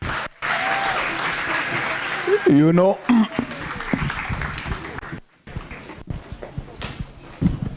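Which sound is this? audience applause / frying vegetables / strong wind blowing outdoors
audience applause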